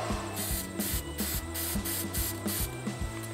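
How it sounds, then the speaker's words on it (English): Spray-on rust treatment hisses from an aerosol can onto the fender of a pickup truck in a series of short, close bursts, the pulses coming in a steady rhythm with no talking. "I've sprayed up into there. I've sprayed on the back side."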